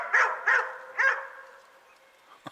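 Puppies give three quick, high yipping barks close by, each separated by a short pause, then fall quiet.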